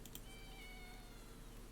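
A cat meows once, thin and faint, a wavering high tone drifting over steady background hiss, heard alone with no talking.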